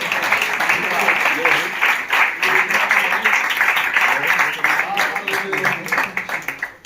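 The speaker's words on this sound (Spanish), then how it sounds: "¿Cuántos aplauden a la palabra del Señor?" A church congregation claps for the word of the Lord in dense, steady applause that thins into scattered claps near the end, with voices mixed in.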